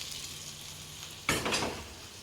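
Bacon sizzles and fries in a pan while noodles simmer nearby, a soft steady crackle with a sudden louder burst of sizzling midway, as if the pan was stirred or disturbed.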